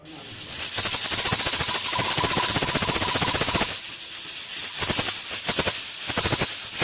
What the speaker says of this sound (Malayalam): നമ്മുടെ പോത്തിറച്ചി നമ്മൾ പ്രഷർ കുക്ക് ചെയ്യാൻ പോവാണ്